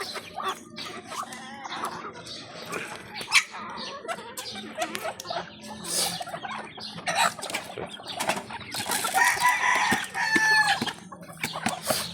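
Farmyard chickens with a rooster crowing and hens clucking, wings flapping now and then, a dog audible in the mix, near and fairly loud, with a busy, overlapping rhythm and no speech.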